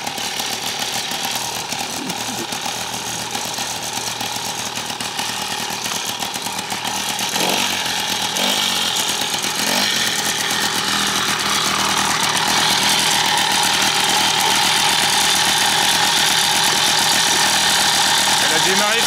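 Moped engine catching after a repair and settling into a steady, buzzy two-stroke idle, loud and close and running throughout, with a few mechanical clicks early on and some talking over it.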